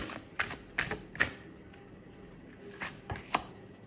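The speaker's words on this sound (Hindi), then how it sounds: "यहाँ पर मैं पहले कार्ड्स ले रही हूँ आपके लिए।" Tarot cards being handled and shuffled, giving a few soft, quick riffling and snapping bursts spaced over a few seconds, close and quiet with no talking.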